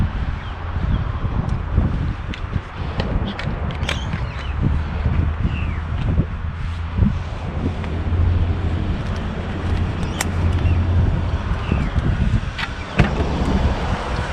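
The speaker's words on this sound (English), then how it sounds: "Windy today." Steady wind on a bay during stand-up paddleboarding buffets the microphone with a constant rumbling roar, broken by occasional faint clicks and rustles, and no one speaks.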